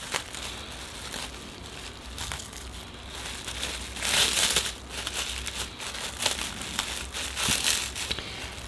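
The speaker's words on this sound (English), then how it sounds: "So I'll just get these unwrapped and see how many trees are in here." Plastic wrapping crinkles and rustles as packaged Pyrenean and holm oak bonsai trees are unwrapped. The close, steady crackling swells in brief louder bursts, with no talking.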